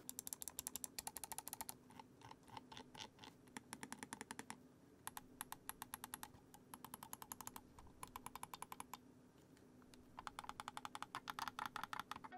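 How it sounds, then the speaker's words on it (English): Button clicks from a Vava Chroma gaming mouse: bursts of rapid, crisp tactile clicking in quick runs separated by short pauses, close and fairly quiet, with no voices. "tactile clicks for easy clicking"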